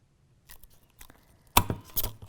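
A few crisp punching pops and crunches as a tool pushes through stacked paper layers for a mini wooden frame craft, the last two strikes louder and sharper, close and alone without talk.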